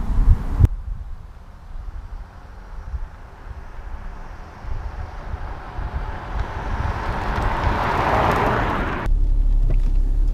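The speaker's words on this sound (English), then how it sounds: "Well, maybe a drive-by." A Jaguar XJ car passes by, a steady road rumble and wind rush that gradually swells louder toward the end as it approaches, with no talking.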